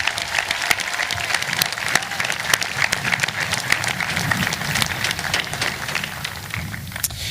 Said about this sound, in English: Please join me in a round of applause congratulating the class of 2024.